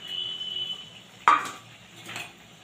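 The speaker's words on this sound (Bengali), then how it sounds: "এবার ভেজে রাখা মাছগুলো দিয়ে দিচ্ছি।" Fried hilsa-style fish pieces dropped into a boiling mustard oil curry in a pan give one sharp clattering splash near 1.3 s, with a fainter stir-and-clink later, over a steady low simmer.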